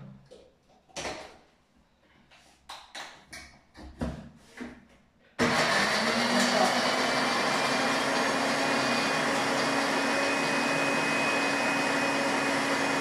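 A food processor crushing garlic for cucumber kimchi starts abruptly partway through and runs loud and steady to the end, after a stretch of quiet handling knocks and clatter.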